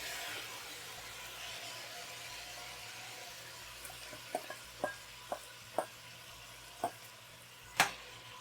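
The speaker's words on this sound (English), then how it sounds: "It sizzles so nice." Ingredients dumped into smoking-hot oil in a pan for green chicken enchiladas, giving a steady soft sizzle with a series of sharp pops and crackles growing louder toward the end.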